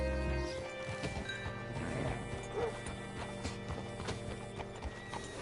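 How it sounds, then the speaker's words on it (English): Horse hooves clop steadily on a hard surface amid a busy, cluttered background with occasional clanks. "Hitch your horse up here."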